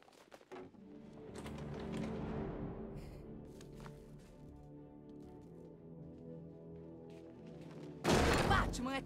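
Gunfire erupts in the Batman: Arkham Knight video game: a burst of rapid shots and thuds at the end, preceded by a rumbling game soundscape.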